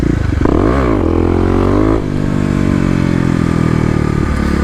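A Kawasaki KLX250 dirt bike fitted with a 13-tooth sprocket revs hard as the clutch is dumped, its engine note sweeping up and down loudly and close before settling into a steady drone.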